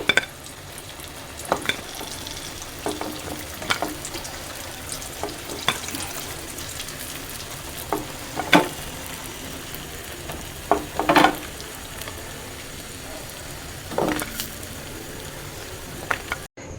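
Chicken fingers in KFC-style coating frying in hot oil, a steady crackling sizzle with scattered sharp clinks and clatters of a utensil against the pan, close and moderately loud, with no talking.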